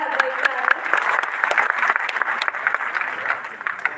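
Crowd at a Prahar Janshakti Party award ceremony in Nagpur claps loudly and continuously for several seconds as a guest is welcomed, with a speaking voice audible over the applause.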